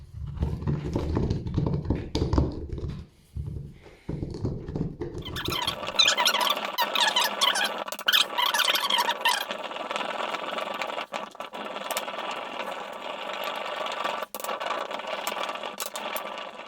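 A Krok mortar and pestle grinding rice with water: a low rumbling pounding at first, then a continuous scraping, squeaking grind of the pestle against the mortar, close and steady.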